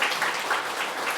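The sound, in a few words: congregation applauding at a Christmas church service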